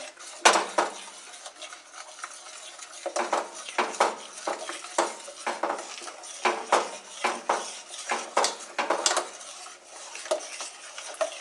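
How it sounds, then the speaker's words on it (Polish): Cashew yogurt is stirred with a spoon in a bowl, giving a steady run of scraping, clinking strokes against the sides, fairly close and moderately loud, with no voices. "No i dokładnie mieszam."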